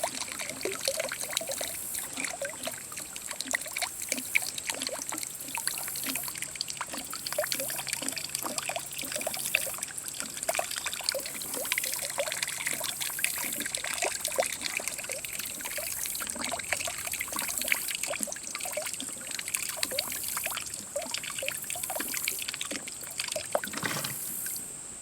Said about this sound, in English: Just draining out some of that water.